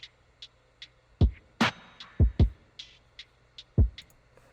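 A drum pattern recorded in Edison, pitched down an octave with hollow-sounding reverb and the highs and lows trimmed, plays as soft ticking hits under deep booming kicks in an uneven, loose groove, with no voices.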